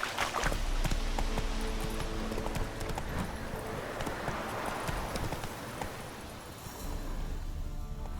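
A horse gallops in The Witcher 3 video game, hooves pounding in a steady clip-clop rhythm over a constant low rumble of ambient noise and wind, at moderate, even loudness throughout.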